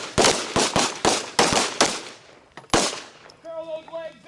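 Handgun shots ring out at a combatives training class, a rapid string of about six loud, sharp reports close by, then a pause and a single further shot, followed by ringing tones.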